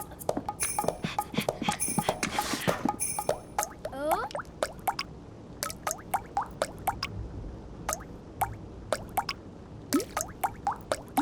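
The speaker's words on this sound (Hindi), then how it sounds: "तुमने ये आवाज सुनी? बूंदों की क्या धुन है?" Cartoon water drips from a leaking roof into a bucket, each drop a crisp, hollow plink, falling in a fast irregular cluster and then settling into a slower, steady rhythm that rings clearly on its own.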